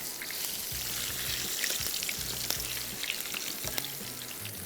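A paratha fries in oil in a pan with a soft, continuous sizzle and crackle, broken by occasional light scrapes and taps, heard close.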